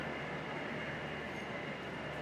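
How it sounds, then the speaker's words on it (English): A model freight train runs steadily around a double-track layout loop at a model train show, a continuous even rumble of wheels on rails heard at moderate distance with no speech. "This is Jimmy Mussers, one of his freight trains."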